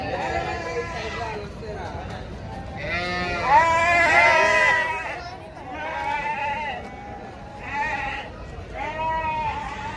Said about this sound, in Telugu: చిన్న మేక పిల్లలు ఉన్నాయి మొత్తం.